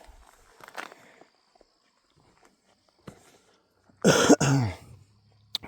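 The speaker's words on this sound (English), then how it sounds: "Pardon the coughing." A man coughs and clears his throat outdoors at a lake while fishing, with a faint rough cough early, a short sound near three seconds, then a loud harsh burst of coughing and throat clearing near the end.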